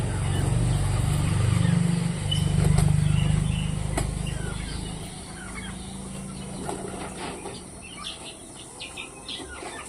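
Chickens cluck and call outdoors in a few scattered, moderately distant bursts over a steady low background hum.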